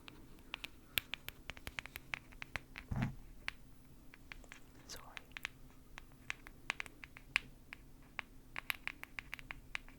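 Nespresso coffee pods handled up close in a quiet room: a steady run of light, crisp clicks, taps and crinkly patters, fairly faint, with one soft thump partway through and no talking.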